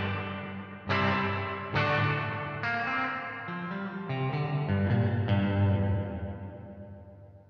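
Electric guitar played through an Eno reverb pedal in room mode with the mix fully wet, no dry signal: a series of strummed chords that ring out and blur together in a wash of roomy reverb, loud and close, with no talking.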